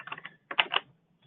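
Quick bursts of computer keyboard typing, a short run of clicks, a brief pause, then another cluster of keystrokes, close and clear with no speech.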